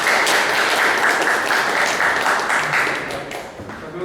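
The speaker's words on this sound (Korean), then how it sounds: "연사님을 위해서 다시 한번 큰 박수 주시기 바랍니다" An indoor audience at a city policy idea competition applauds with dense, sustained clapping that stays loud and then tapers slightly toward the end.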